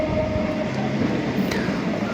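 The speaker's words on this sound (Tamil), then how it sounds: "ஸோ நம்ம இறங்கின ட்ரெயின் போயிட்டுருக்குது." Train pulling away from Pattabiram station on the Tiruvallur route in Chennai, a steady continuous rumble with a faint high squeal, close and even in loudness, no voices.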